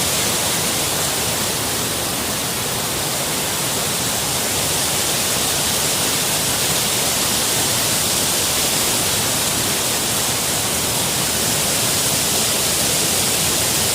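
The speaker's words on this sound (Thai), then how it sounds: "น้ำตกห้วยตาเปิดนะฮะ" Huai Ta Poe waterfall in Mukdahan roars as a constant, loud, broadband rush of falling water, unbroken from start to finish, with no voices.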